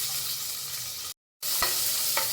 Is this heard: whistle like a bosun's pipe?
no